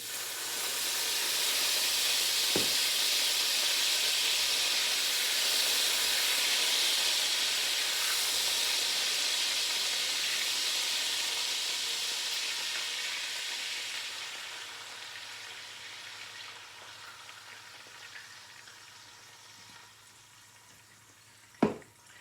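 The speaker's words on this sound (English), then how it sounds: "Now it's time to go ahead and deglaze and reduce about 12 ounces of your favorite beer" Beer hissing and sizzling as it deglazes and reduces in a hot pan for pastalaya, a steady broad steamy sizzle lasting throughout, close and fairly loud, tapering slightly toward the end with a single clank.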